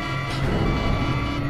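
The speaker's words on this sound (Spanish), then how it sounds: "¿Qué es esa alarma?" An action-movie alarm blares as a loud, steady electronic tone with sustained harmonic pitch, continuous for the whole short stretch under a rumbling background.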